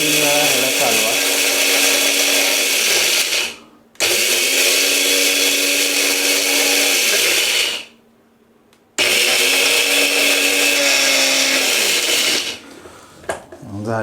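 A mixer grinder pulverising fennel seeds runs in loud, harsh whirring bursts of a few seconds each, stopping briefly between runs and then winding down, close by.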